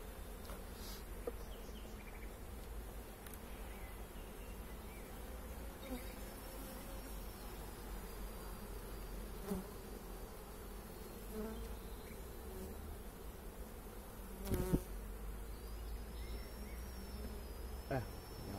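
Honeybees buzzing steadily around an opened hive during a colony inspection, a soft continuous drone with occasional nearer bees passing close, plus faint handling noises.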